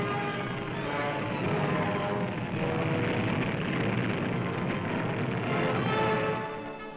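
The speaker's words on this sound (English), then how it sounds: "The planes were still coming with no end in sight." Cargo planes of the Berlin airlift drone overhead, a steady rumbling propeller-engine hum that holds loud and constant before fading at the end, with no voices present.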